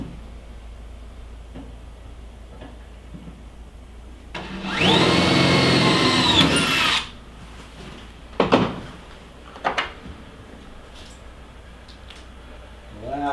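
Power drill boring a pilot hole for a truck bolt: a brief, loud whirring burst of about two seconds, followed by a few short clunks and knocks from handling the parts.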